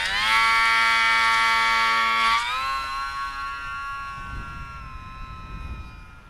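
The electric motor of an E-flite UMX Pitts S-1S micro RC plane on a 3-cell battery gives a close, loud, high-pitched whine. Its pitch drops partway through and it then keeps running steadily at the lower tone.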